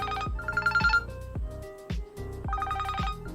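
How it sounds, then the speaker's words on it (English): A loud electronic phone anti-theft alarm on a Realme P4 rings in repeated bursts of bright, melodic tones, with short gaps between the patterns. "The phone will start ringing if someone tries to remove the charging cable, headphone or SIM card"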